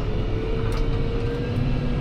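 A Fendt tractor fitted with ErgoSteer pulls away again, its engine a steady, loud low rumble throughout with no talk.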